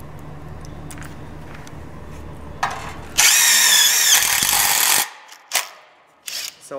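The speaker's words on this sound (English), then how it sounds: "So it's that easy to screw with these Barbecue Coach screws" A power drill drives self-tapping screws through steel bar supports of an outdoor kitchen frame, giving one loud, close, high-pitched whirring burst of about two seconds, then brief clicks and taps.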